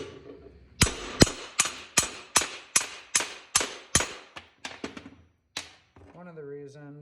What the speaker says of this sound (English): just use a hammer.